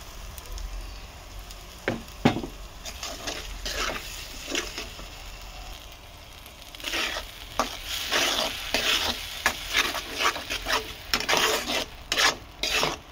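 A spoon scrapes and stirs a thick mustard, poppy seed and green chili paste masala frying in oil in a pan, with irregular rasping strokes and a soft sizzle, sparse at first and then quicker and busier.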